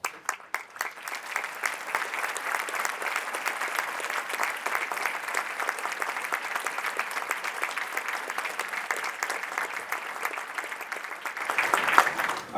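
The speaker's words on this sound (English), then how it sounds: "So I'd ask you to please stand and get a round of applause" Sustained applause from a room full of standing people at a chamber of commerce awards dinner, a dense steady patter of clapping that swells slightly near the end before stopping.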